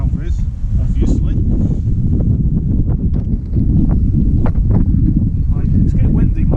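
Outdoors during a mower tyre puncture repair, wind rumbles hard against the microphone in a constant loud low-frequency roar, with a voice talking over it.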